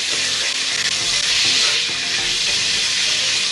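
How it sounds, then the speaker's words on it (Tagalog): Ingredients for a mung bean stew sizzle and fry steadily in a hot pan while being stirred, a close, continuous crackling hiss with no voices. "ilagay natin yan para igisa natin"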